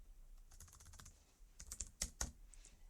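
Computer keyboard typing while code is entered: a quick run of soft, close key clicks, then a few sharper, louder strokes, with no talk.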